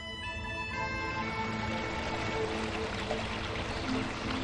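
The Irati river flows through a limestone gorge, a steady broad rush of water that stays even and continuous, with no voices.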